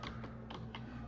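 Typing on a computer keyboard: a short burst of four quick, soft key clicks over a low steady hum.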